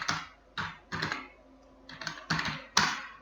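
Keystrokes on a computer keyboard while entering data in an Excel spreadsheet, arriving as short clustered bursts of clicks with brief pauses between, close and fairly quiet.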